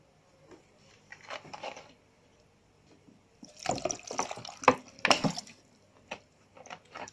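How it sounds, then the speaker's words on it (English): Water poured into a container of chopped orange and carrots for juice, heard as a few brief splashy bursts and drips at close range amid quiet gaps, with no talking. "After that, I add some water."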